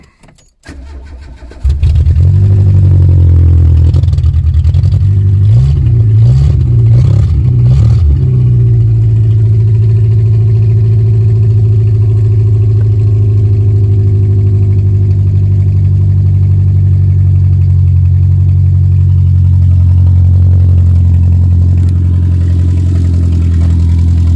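A car engine cranks and catches, revs a few times, then settles into a steady, loud, close idle that runs on with no talking.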